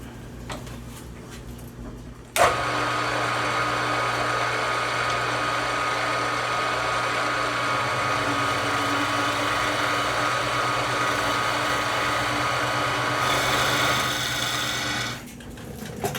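A milling machine cuts a wooden neck for a Vega Tubaphone tenor banjo, starting with a sharp bite and then holding a loud, steady whining grind for over ten seconds before winding down.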